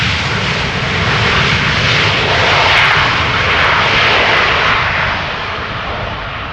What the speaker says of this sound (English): Our punishment is that they use the reversers to let their anger be known.